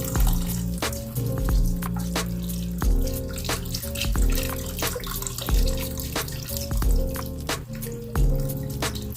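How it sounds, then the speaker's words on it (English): Beef broth pours into a crockpot for vegetable beef stew, a steady close liquid splashing and trickling with drips and small plops throughout, no talking. "Go ahead and add the rest of my beef broth."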